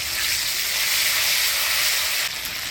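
Ginger-cumin spice paste sizzling in hot oil with bay leaf and whole cumin, a steady close hissing fry throughout with a slight shift near the end.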